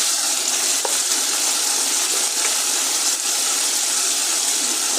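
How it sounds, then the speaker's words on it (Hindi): Garlic frying in a pan for a potato kofta curry, a steady, dense sizzle that stays even and loud throughout with no talking. "अब हम डालेंगे इसके अंदर लहसुन और फ्राई कर लेंगे इसे।"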